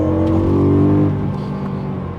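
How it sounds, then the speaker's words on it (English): A BMW E92 M3 in M mode with its automatic gearbox bangs down a couple of gears, and the engine flares into a loud, close rev that peaks, then eases back to a steady, slightly lower drone with no talking. "You bang down a couple of gears in M mode, and whoa."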